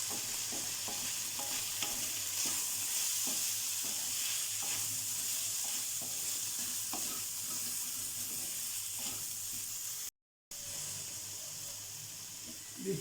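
Spices for an eggplant-and-chicken curry stirred in a frying pan, a steady close sizzle with repeated scraping strokes of the spoon, running continuously with a brief cut near the end.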